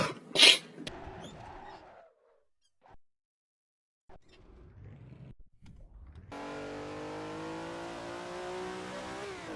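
A 450-horsepower race car of about 800 kilograms in a racing game on the Targa Florio course gives a few short engine blips after a brief sharp sound, then settles into a steady, rising rev that holds to the end.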